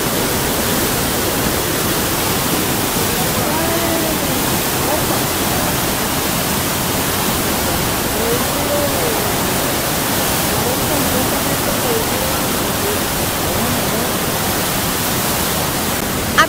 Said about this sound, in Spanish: Miren esa fuerza que trae el río